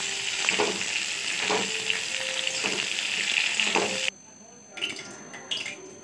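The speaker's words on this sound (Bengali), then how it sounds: "দেখুন ফুলকপিটাও ভাজা হয়ে যাচ্ছে আমার।" Cauliflower sizzles and crackles in hot oil with steady frying noise and a few stirring scrapes, then the sizzle cuts off, leaving quieter clatters.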